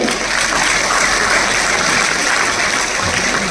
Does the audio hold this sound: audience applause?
yes